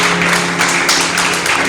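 A church congregation applauds at a Spanish-language service, a dense, steady wash of many hands clapping together at close range, with a low sustained tone running underneath throughout.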